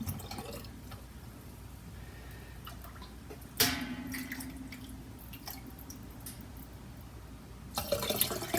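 Hot chicken broth pours quietly into glass canning jars, a soft trickling and dripping of liquid with a brief louder splash partway through, close and faint.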